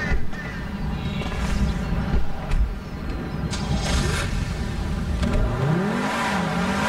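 A car engine in the GTA 5 video game revs and accelerates, loud and close, rising and falling over several seconds with a whining pitch sweep near the end.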